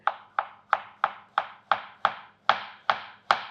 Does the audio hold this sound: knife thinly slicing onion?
yes